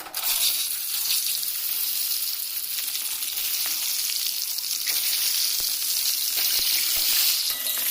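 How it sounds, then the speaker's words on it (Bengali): Eggs fry in hot salted oil in a wok over a village kitchen fire, giving a dense, even sizzle throughout, close and loud, with a few faint clinks and no voices. "দিয়ে ভালো করে ভেজে নেব।"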